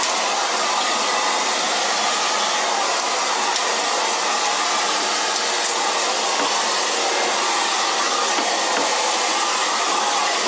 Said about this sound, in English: the nice bristles guarantee that you won't break the hair in the blow dry process.